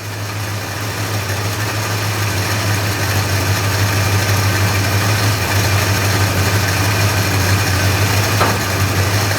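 A classic Mopar car engine idles steadily up close, a constant low rumble with a faint mechanical hum, no voices.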